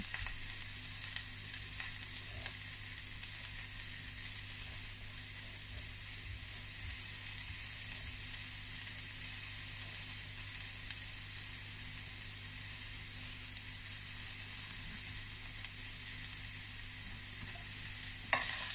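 Onion sautés in a hot pan for chicken sopas, a faint, steady sizzle and hiss that runs evenly throughout with a small clatter near the end.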